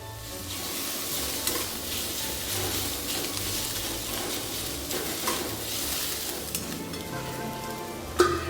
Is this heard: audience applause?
no